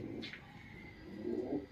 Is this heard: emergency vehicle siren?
no